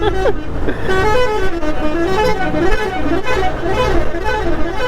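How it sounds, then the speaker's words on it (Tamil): A loud, musical vehicle horn plays a continuous warbling melody over the heavy rumble of a road vehicle in traffic near Birla Mandir, Jaipur, India. "இவன் ஹார்ன் அடிக்கிறாரா இல்லை ஃபுல்லா ஏதாச்சும் மியூசிக் இன்ஸ்ட்ருமெண்ட் வாசிட்டே தெரியலையா?"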